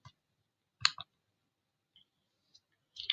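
Mouse clicks during blog setup: a few sharp, quiet clicks spread over three seconds, including a quick double click near the middle, in otherwise near silence.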